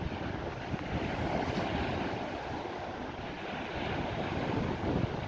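Atlantic Ocean surf at a Bermuda beach, a constant soft wash of waves mixed with wind noise, faint and steady with no voices.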